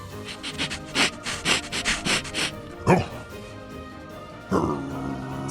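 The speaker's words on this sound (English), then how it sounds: "He lifted his head and began sniffing the air." A dog sniffs in a quick run of short, sharp nasal inhalations, then snorts a few more times, close by, with a voice speaking faintly underneath.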